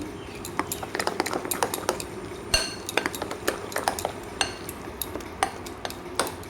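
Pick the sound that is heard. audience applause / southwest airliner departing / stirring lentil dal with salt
stirring lentil dal with salt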